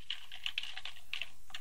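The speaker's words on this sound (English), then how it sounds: "Let me type it in here." Light clicking of keys on a computer keyboard, brisk irregular bursts of taps close up in a quiet room, with short pauses between runs and no talking.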